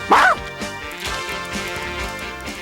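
A cartoon dog lets out a short, loud yipping bark at the start, followed by softer whimpering dog sounds over a busy animated soundtrack, with another yelp at the very end.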